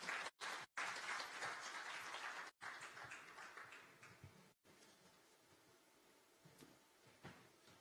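At the Ayute Challenge Uganda grand finale, a crowd gives a distant, fairly faint round of applause. The clapping is broken by brief dropouts and gradually thins out and quiets.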